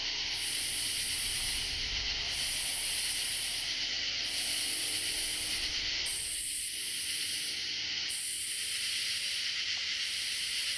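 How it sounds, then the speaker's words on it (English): A loud, high-pitched insect buzz pulses in regular rhythmic bursts right up close in a cemetery, over a constant hissing background. "there's a bug like really close to right here"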